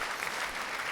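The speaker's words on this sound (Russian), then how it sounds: "Спасибо, аплодисменты." A concert audience gives steady, full applause, a dense wash of clapping from a large crowd that continues evenly throughout.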